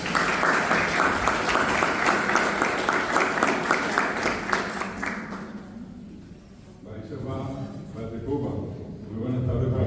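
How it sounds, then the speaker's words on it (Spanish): Audience applause at a Guarani-language event, a dense steady wave of clapping for about five seconds that fades out, followed by someone speaking. "Lo recibimos con un fuerte aplauso, por favor."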